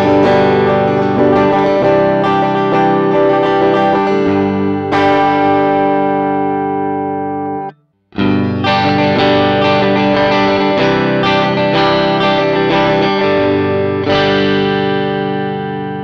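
Electric guitar recorded through a Tech 21 Liverpool direct unit plays a loud, distorted phrase with the speaker simulation off. After a brief silence the same phrase repeats with the simulation on, with sustained chords ringing throughout.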